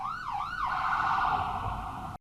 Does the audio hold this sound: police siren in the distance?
yes